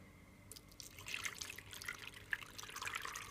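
Water splashes and trickles into a blender up close while making carrot juice, a gurgling pour that starts about half a second in and continues steadily.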